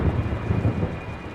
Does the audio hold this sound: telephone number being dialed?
no